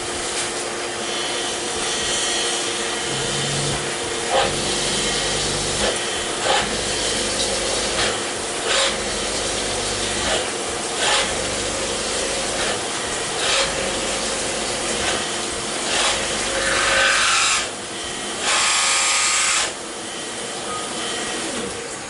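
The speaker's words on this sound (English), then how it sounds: "Here's this chattery drill bit." A chattering drill bit bores into a filler plate during machining on a milling setup, a steady loud grinding whir with rhythmic rasping pulses recurring every second or two, no talk.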